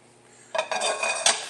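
A metal frying pan clanks and rattles as it is set down on a kitchen stovetop, a few close, bright knocks and scrapes over about a second, with no talking.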